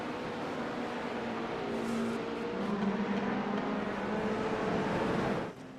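GTP race cars in the iRacing game at Silverstone roaring down the front stretch, a steady blended engine drone with rising and falling pitch as the pack passes, fairly faint and dropping off at the end.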